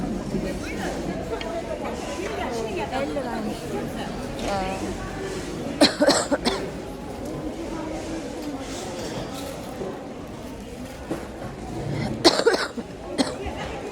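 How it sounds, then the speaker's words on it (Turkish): A woman coughs in two loud, harsh bursts of several coughs each, spaced apart and set against ongoing talk and background murmur indoors. "Yine başladım öksürmeye."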